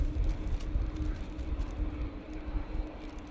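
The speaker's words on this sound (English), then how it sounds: "So Dreamliner now in short final." A Boeing Dreamliner airliner on short final approach into a windy Manchester Airport, a steady low engine roar with wind rumble, heard from a distance with no talk.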